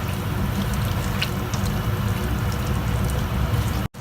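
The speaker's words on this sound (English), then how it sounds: "I'm going to add some hot water" Hot water pours steadily into a pot of layered chicken biryani, a continuous rushing, gurgling flow that cuts off abruptly near the end.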